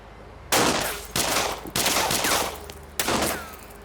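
Loud, close bursts of gunfire in a scene from the Turkish TV drama Valley of the Wolves: Ambush come in four sharp volleys, each decaying into a rumbling tail before the next one starts.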